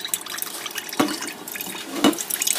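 Water running from a kitchen tap, a soft steady trickle with two brief splashy bursts, fairly quiet and alone.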